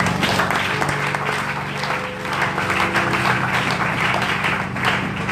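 A church congregation applauds in sustained, dense clapping, with a few voices and a faint musical tone carrying beneath.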